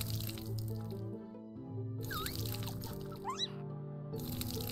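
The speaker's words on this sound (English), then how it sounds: "Let's water them." Watering crops in the farming game Tales of Autumn, with dripping, splashing water sounds and bubbly pours layered over gentle background music.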